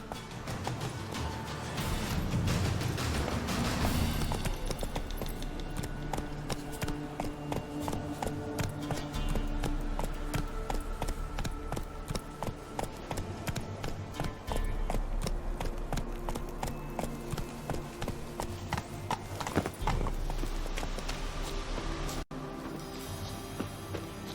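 Hooves of Roach, the horse in The Witcher 3, clop in a steady rhythm under game music and ambience, moderately close and fairly faint.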